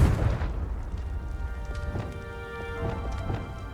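A Confringo blasting spell going off in Hogwarts Legacy, a loud booming burst at the start followed by a few lighter pops and crackles that fade over the next few seconds.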